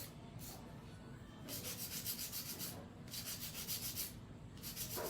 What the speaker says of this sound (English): So a little bit hand filing here.